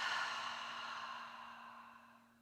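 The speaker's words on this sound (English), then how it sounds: "Open your mouths and exhale." A long open-mouthed exhale during a yoga breathing exercise, soft and close, a steady airy sigh that slowly fades out over a couple of seconds.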